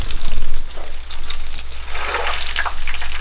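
Food sizzles steadily in hot oil during outdoor cooking, a loud, close bubbling crackle that pulses in short waves with no voices over it.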